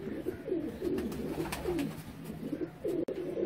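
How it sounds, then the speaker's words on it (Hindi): A slate-grey Kasuri pigeon coos close by in a repeated soft, throaty rhythm, with a few brief rustles between calls. "मेरे पास जो स्लेटी कबूतर है मैं आपको वो दिखाता हूँ"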